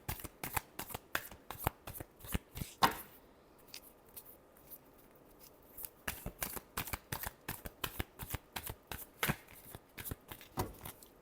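Tarot cards being shuffled over and over in quick rustling riffles, close and fairly quiet, with a short pause in the middle before the shuffling resumes; no one speaks.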